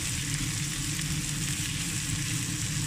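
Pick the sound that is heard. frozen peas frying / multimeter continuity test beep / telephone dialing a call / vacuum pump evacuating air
frozen peas frying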